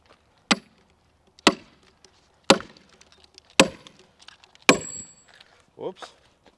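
Five hard, regularly spaced blows ring out as a 22-inch white oak log is rived for axe handles, each a loud, close woody crack with a short splintering tail. A brief voice sounds near the end.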